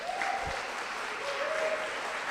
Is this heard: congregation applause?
yes